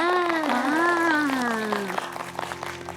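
Studio audience applause on a Chinese reality show, clapping congratulating the husbands' team, starting under a loud drawn-out shout from a voice and then continuing on its own as scattered clapping.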